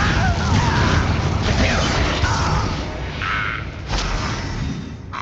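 Bombarda blast spells in a Hogwarts Legacy mine, a loud, dense rumbling explosion filling the whole stretch with booming crashes and debris bursts, a fresh impact near the four-second mark.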